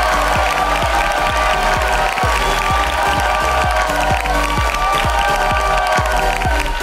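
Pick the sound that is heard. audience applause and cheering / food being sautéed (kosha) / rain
audience applause and cheering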